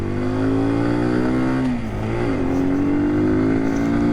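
A 2025 Kawasaki Z125 motorcycle engine drones loud and steady at full throttle while riding, its pitch dipping briefly at a shift before climbing back and holding high.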